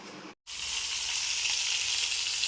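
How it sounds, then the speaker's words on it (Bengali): Bombay duck (lote) fish frying in a pan gives off a loud, continuous sizzle that starts after a brief moment of quiet and holds steady, close and dense, with no talk. "এখানে দেখো লোটে মাছ হচ্ছে"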